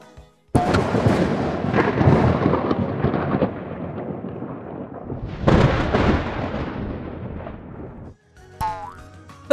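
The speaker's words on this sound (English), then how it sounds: "Now we'll hear thunder." Thunder rolls in two long rumbling waves, loud and close, each swelling then fading, followed by a brief burst of other sounds at the end.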